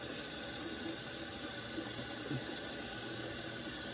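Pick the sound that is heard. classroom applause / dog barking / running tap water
running tap water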